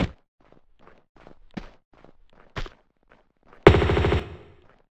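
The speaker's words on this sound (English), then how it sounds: "Why did I just randomly start shooting?" Gunfire from Lara Croft in Tomb Raider 2 Gold: a series of short, sharp shots spaced irregularly, then a loud, dense burst of rapid fire near the end that decays into a ringing tail.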